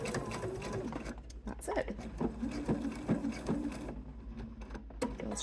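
An electric sewing machine hums and rattles steadily while stitching through flat layers of fabric for understitching a seam allowance to lining, close up, with a person speaking briefly over it.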